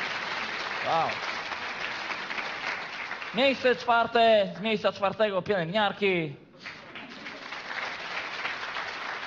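Cabaret audience applauding steadily throughout, a dense broadband patter that carries on under someone talking over it in the middle and swells slightly again as he pauses.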